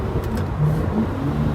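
Lamborghini Murcielago LP640 V12 mounted behind the cabin, heard as a steady, loud low engine drone with faint harmonic tones rising and falling slightly, recorded from inside the car while driving.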